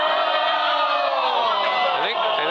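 A curling arena crowd cheers and roars loudly and continuously at a spiel event, with rising shouts and whoops layered throughout.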